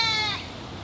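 A goat gives a single short bleat that wavers and fades within a second, heard alone over faint outdoor background noise in a sculpture garden.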